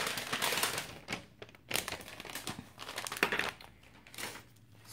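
An envelope is opened and its packaging crinkled up close, giving bursts of papery rustling and crumpling with brief pauses between handling noises.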